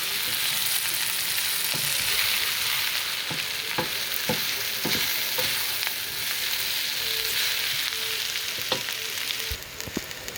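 Coconut flour and spices cooking in a pan for a vegan mung bean curry, a steady close sizzle with occasional scrapes and taps of stirring throughout, no voices.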